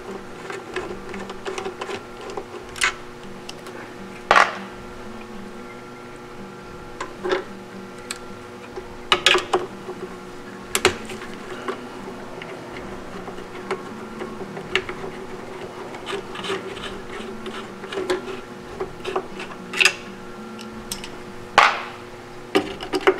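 Screws being backed out of a B&R ACOPOS 1180 servo drive, heard as scattered small metallic clicks and taps at close range over a steady electrical hum, with no voices.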